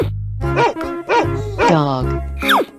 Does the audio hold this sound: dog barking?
yes